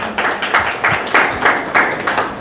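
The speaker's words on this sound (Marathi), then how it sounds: "त्यांचं अभिनंदन करा टाळ्या वाजून" A crowd at a Hindu Veerashaiva Lingayat political rally claps together in a steady, rhythmic beat, loud and close, with each clap landing in even succession.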